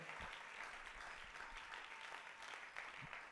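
A church congregation applauding at an Easter seminar, steady dense clapping from many hands throughout, fairly distant and soft.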